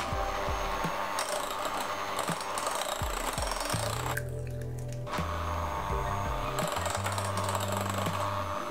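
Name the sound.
mixer beating cheesecake batter with eggs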